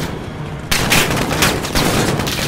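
Call of Duty Modern Warfare gunfire, several loud shots firing close together in quick succession, with each report ringing into the next so that a dense, continuous barrage builds up.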